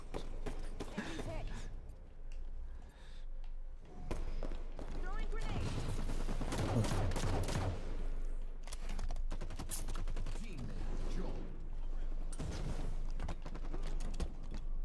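Splinter grenade and gunfire in a Halo 5 Forge Oddball match: dense, fast shooting rattles through most of the stretch, with players talking over the combat.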